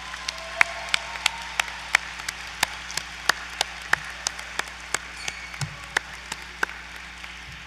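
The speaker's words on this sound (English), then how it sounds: "Let's give them all a round of applause" Sparse, scattered clapping at a university graduation commencement, a thin audience producing distinct individual claps at an irregular rhythm over a quiet hall.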